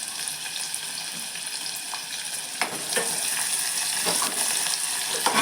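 Onion fries in a pan until it turns pink, a continuous close sizzle with occasional stirring clicks and scrapes that gets a little louder halfway through.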